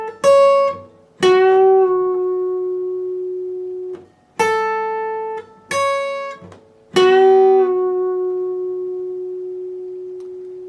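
Guitar plays the first part of a solo twice over, a sequence of clean plucked notes with long ringing sustain and short gaps between phrases, close and alone.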